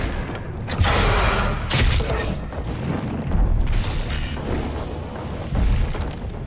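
Gunfire and heavy booming impacts from enemy Arachnotrons in the Doom Eternal shooter game, a dense loud barrage of bursts and blasts with layered mechanical noise, several sharp hits standing out throughout.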